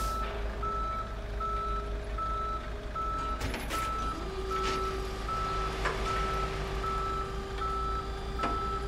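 A tow truck in the game Police Simulator backs up to haul away a car parked in a tow zone. Its regular reversing beeps repeat steadily over a low engine rumble, with a brief clank midway.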